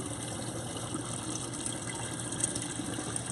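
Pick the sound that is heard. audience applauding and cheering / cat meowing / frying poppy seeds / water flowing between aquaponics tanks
water flowing between aquaponics tanks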